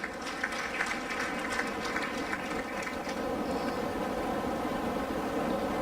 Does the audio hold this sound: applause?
yes